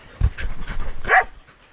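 Hunting dog on a New Zealand pig hunt giving a short burst of barks and a whimper, close and fairly loud, over a brief rustle of movement, with no talk.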